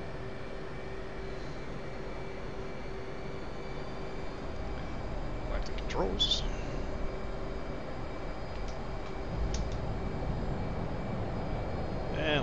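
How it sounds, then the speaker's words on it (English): Jet engines spool up on an aircraft carrier catapult in the DCS flight simulator, a steady loud roar with a brief sharp transient midway and a voice speaking over it. "rev up those engines, baby."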